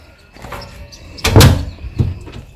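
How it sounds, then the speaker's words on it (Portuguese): A house's front entrance door in a hall is pulled shut, a loud thump with a rattle, then a softer knock as it settles, all close by. "Fechar a porta da entrada, do hall de entrada, chave daqui."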